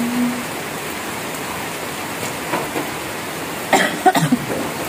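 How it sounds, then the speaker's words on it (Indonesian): Steady heavy rain pours down, a continuous broadband hiss near the listener, with a few louder knocks and splashes toward the end. "Hujannya deras ya."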